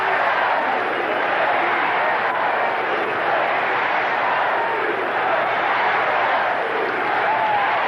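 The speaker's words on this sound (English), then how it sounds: "Now the crowd's starting to get the Houston Astros thing going." A baseball crowd at a Dodgers versus Astros game in 1999 roars steadily in a dense wash of voices, building a chant for the Houston Astros, sustained and loud throughout.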